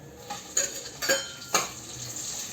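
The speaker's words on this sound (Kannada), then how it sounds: "ಪಲಾವ್ ಸಾಮಾನೆಲ್ಲ ಸ್ವಲ್ಪ ರೋಸ್ಟ್ ಆಗಲಿ ಇವಾಗ ಆನಿಯನ್ಸ್ ತಗೊಂಡಿದ್ದೀನಿ" Sliced onions frying with pulao whole spices for egg biryani, a faint steady sizzle broken by a few sharp clinks and scrapes of a ladle against the pan.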